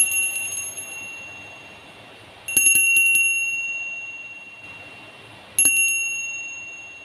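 A bell rings three times at spaced intervals, each strike bright and ringing before decaying, signalling the start of a timed card activity over a quiet background.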